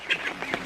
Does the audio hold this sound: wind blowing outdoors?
no